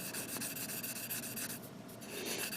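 Close, steady scratching of 800 grit sandpaper on an MG 1/100 Freedom Gundam model kit part, quick rhythmic rubbing strokes that briefly ease off midway and then pick up again, with no talking.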